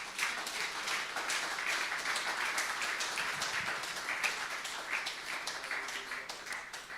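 A church congregation applauds during a sermon, a dense, sustained wash of hand claps that runs steadily for several seconds and tapers slightly at the close.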